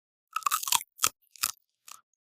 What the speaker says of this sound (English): This is so incredibly crunchy and delicious.